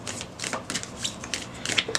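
Tarot cards being shuffled by hand in a quiet room, a run of soft riffling bursts and papery slaps coming close together, near and fairly quiet, with no talking.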